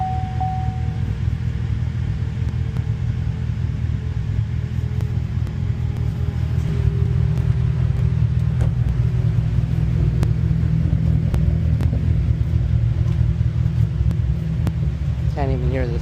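A Cadillac ATS-V with a cold air intake and tune idles in track mode, its exhaust giving a steady low rumble that rises slightly partway through, with faint speech and minor noises on top.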